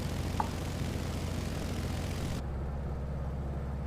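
Biplane with full-span flaps droning in a flight simulator game, a steady engine hum that cuts abruptly to a duller, muffled tone partway through.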